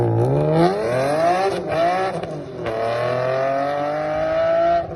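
BMW M3 GTR racing engine with ARH headers and a Section 2 side exhaust, revving hard in a loud, close, sustained howl that rises, dips between gear changes and climbs again, alone without voices.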